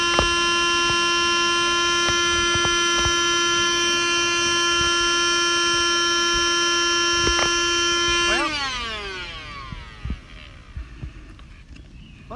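A Ryobi 18V ONE+ P747 dual-function inflator runs loudly with a steady electric whine and hum while filling a pool, then switches off and spins down, leaving a few faint knocks.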